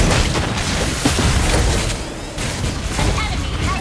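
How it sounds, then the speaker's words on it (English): A turret being destroyed in Mobile Legends, a loud burst of booming explosions and crackling impacts over game noise, with voices heard through it. "Your team destroyed the turret!"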